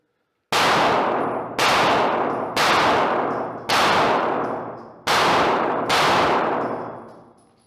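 Rifle gunshots at an outdoor shooting range, six loud sharp cracks each followed by a decaying ringing echo, the first two spaced apart and the later ones coming faster, with no talking.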